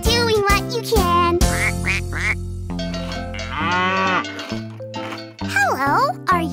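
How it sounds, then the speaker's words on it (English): A cartoon duck quacks several times within a lively children's song, the quacks mixing with music and cheerful sung voices. "Hello, are you Ducky's mama?"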